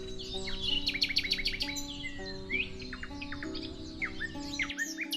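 Songbird trills a bright, varied melody of repeated chirps and whistles through the whole stretch, close and clear over a steady sustained musical backing.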